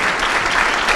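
Steady applause from a crowd at an anniversary ceremony honouring local schools, a dense loud patter of many hands clapping continuously throughout.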